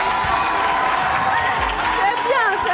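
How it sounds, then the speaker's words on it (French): Audience at a televised school quiz contest between two lycées claps and cheers in a dense, steady burst lasting the whole moment, with shouts and voices mixed through the crowd noise. "Ah, super, on applaudit."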